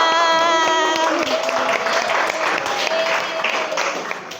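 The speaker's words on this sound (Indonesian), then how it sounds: "Oke, tepuk tangan." Applause from a school class, with a steady wash of many hands clapping at close range, plus a sustained tonal hum early on and brief voices mixed in.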